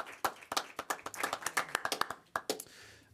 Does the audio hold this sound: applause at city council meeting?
yes